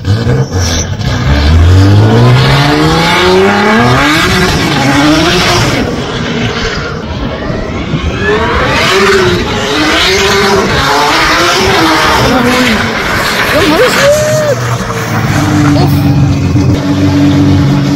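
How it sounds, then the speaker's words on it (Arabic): A race-style speed car, not a drift car, accelerates hard, its engine climbing repeatedly through rising revs and gear changes, loud and close, with people talking over it. "بصوا دي عربيه سبيد بقى مش دريفت."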